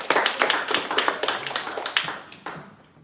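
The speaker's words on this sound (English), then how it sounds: "Let's hear a round of applause for Sina" Scattered clapping from a small audience at AI and mathematics hackathon presentations, distinct individual claps that thin out and fade over a few seconds.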